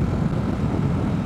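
A Ducati SuperSport 939 motorcycle with a 937 cc L-twin engine runs with a steady, dense low rumble, close and unbroken.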